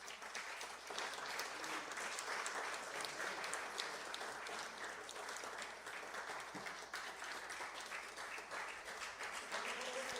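Sustained applause from a large crowd at an honorary doctorate ceremony, steady and loud throughout, with dense overlapping claps and no talking.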